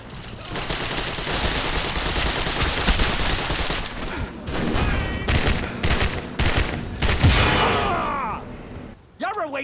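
Rapid bursts of gunfire fill an online match of the video game Gotham City Impostors, with dense machine-gun volleys and booming shots almost nonstop, while voices talk over the combat.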